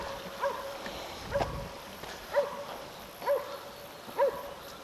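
Five evenly spaced barks from hunting dogs attacking a pig sound from a distance over a quiet outdoor background in New Zealand's Te Urewera forest, each short and sharp, about one second apart.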